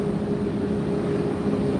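A JetBlue jet airliner at Fort Lauderdale International Airport gives off a steady, loud roar with a droning engine whine, close and unbroken throughout, no talking over it.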